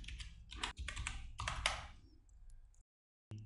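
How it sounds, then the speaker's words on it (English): Rapid bursts of typing on a computer keyboard while entering a line of text in DaVinci Resolve editing software, close and clear, pausing briefly before a final key tap. "So I'm typing DaVinci Resolve."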